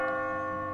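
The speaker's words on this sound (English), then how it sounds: "As you near the top, you will hear a bell ringing." A bell tolls near the exit in the video game Catherine, a single sustained, ringing chime with rich overtones, moderately quiet and alone.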